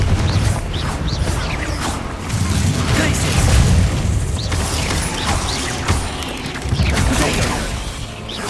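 A Confringo spell explosion in Hogwarts Legacy, fiery bursts and booming impacts inside a mine during combat, loud and dense with clattering and rumbling debris, a voice faintly underneath.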